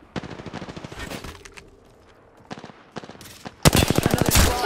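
Rapid automatic gunfire from Apex Legends during a ranked match: clipped bursts of shots with short gaps, ending in a loud, sustained close-range volley.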